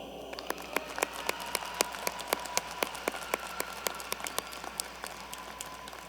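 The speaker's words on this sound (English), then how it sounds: "giving them a loud round of applause" Scattered claps at a high school graduation ceremony in a large venue, distinct separate hand claps spread over several seconds at moderate level rather than a dense ovation, with no talking.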